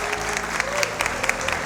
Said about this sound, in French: On les applaudit, public.